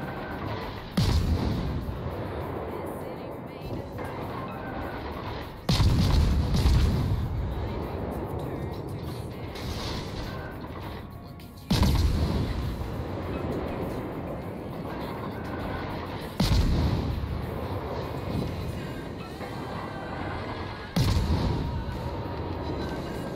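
Heavy ship guns fire in a naval battle video game, five loud booming salvos spaced several seconds apart, each followed by a rumbling decay over steady engine and sea noise.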